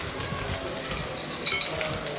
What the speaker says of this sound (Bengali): দিয়ে একটু নেড়ে নিই, হলুদের কাঁচা গন্ধটা চলে যায়।